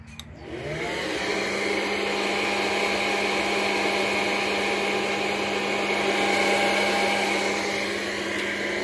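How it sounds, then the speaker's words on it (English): Hair dryer switching on to blow air into a DIY kamado smoker cooking two pork butts, starting with a click and then a steady, loud, even whirring roar with a constant motor hum throughout. "it's going to kick the hair dryer on"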